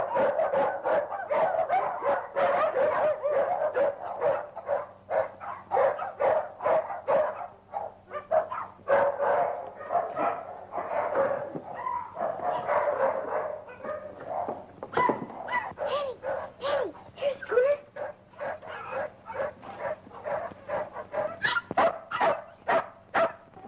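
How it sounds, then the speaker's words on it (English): Several nervous dogs bark at night ahead of a storm, loud and close, with repeated sharp woofs, yips and whimpers in rapid, uneven bursts that continue almost without pause. "What's all the barking about?"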